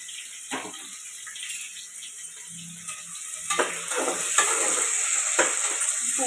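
Onion and whole spices for veg pulao sizzle in oil under a bright steady hiss, with intermittent scraping stirs that grow busier toward the end; close up and fairly loud, no speech.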